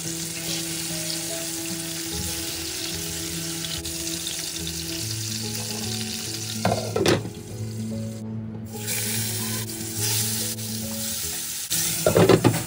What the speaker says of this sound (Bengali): এদিকে মাছটা ভাজা হতে থাকুক